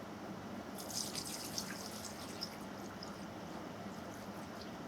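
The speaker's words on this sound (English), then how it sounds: "And then just pour it out." Homemade ghost pepper hot sauce made with raspberries is poured out in a soft, continuous trickle with a few small splashes, faint and steady with no voices.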